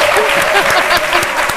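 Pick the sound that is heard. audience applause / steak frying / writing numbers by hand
audience applause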